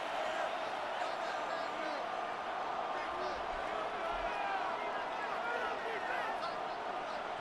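Stadium crowd cheering in Madden NFL 26 during a Sunday Night Primetime game as third down approaches: a steady, loud, continuous roar of a packed stadium with no breaks.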